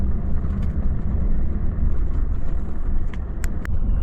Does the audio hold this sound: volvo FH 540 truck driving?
yes